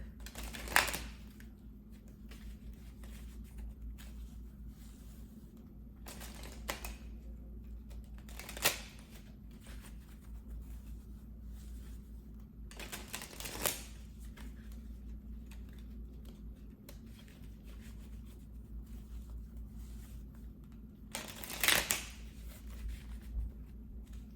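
Crystal oracle cards are shuffled and pulled in a quiet room, with several short papery riffling bursts spaced seconds apart and a longer flurry near the end.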